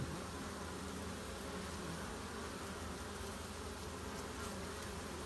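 Bees buzzing steadily around early spring flowers, a dense continuous hum with no breaks, fairly faint and unaccompanied by any voice.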